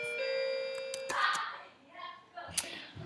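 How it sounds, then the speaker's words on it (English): A doorbell chimes indoors with a sustained ringing tone near the start, followed by a later sharper ding, while someone speaks around it. "I got interrupted by the doorbell"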